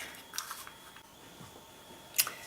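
Scissors snipping paper for a Christmas ornament, a couple of quick close cuts, the sharpest snip near the end, in a quiet room.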